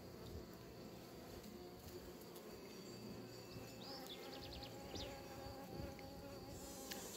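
A faint, steady hum of many bees buzzing close by, continuous and low, with no talking.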